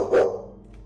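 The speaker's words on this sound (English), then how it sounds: "his dog turns around and starts barking at another door" Dog giving a single short bark, close and clear, followed by a faint quieter sound and near silence.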